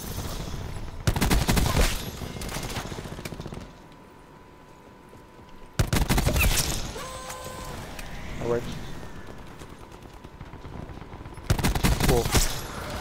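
Rapid automatic gunfire from the video game Call of Duty Black Ops 4 arrives in three loud bursts separated by quieter stretches of game sounds, with a player's voice speaking in between.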